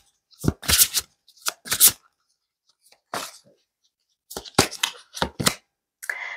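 A deck of oracle cards is shuffled in several short, crisp riffling bursts separated by silent pauses, close and clear with no talking.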